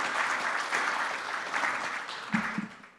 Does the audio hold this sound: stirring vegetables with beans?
no